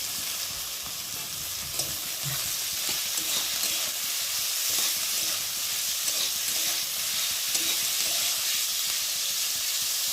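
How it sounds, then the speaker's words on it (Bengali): Onions and cut potatoes fry in a pan for a Maggi dish, with a constant hissing sizzle and occasional soft knocks of a stirring spoon. "এখন ভেজে রাখা আলু, কেটে রাখা আলুগুলোকে দিয়ে একটু ভেজে নেব পেঁয়াজের সাথে।"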